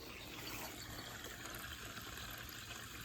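Water gushing steadily from a pool pump rigged as a well pump beside a lake, a continuous broadband splashing rush that fills the whole stretch at moderate level with no voices.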